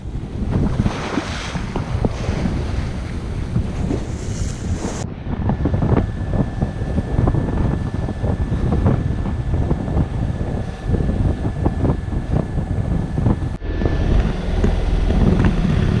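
Steady, loud wind roars and buffets the microphone aboard a sailboat at sea near an island, with continuous rushing noise and water wash throughout.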